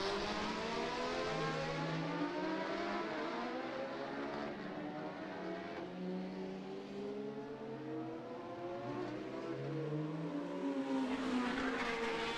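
Super stock racing motorcycles at Macau Motorcycle Grand Prix practice, several high-revving engines rising and falling through gear changes as bikes pass at a moderate distance, a continuous overlapping whine with no talk.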